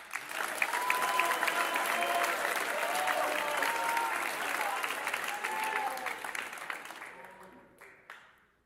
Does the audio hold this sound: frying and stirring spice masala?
no